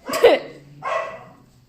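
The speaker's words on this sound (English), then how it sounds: "And they sometimes bark." Mudi dogs bark indoors at home, two separate bursts of sharp, close barking, the first loud and yappy, the second a bit softer.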